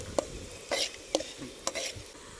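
Cashew nuts frying in oil in a pan and being stirred with a spoon, the stirring heard as a few sharp scraping knocks about half a second apart over a soft sizzle, close by with no voices.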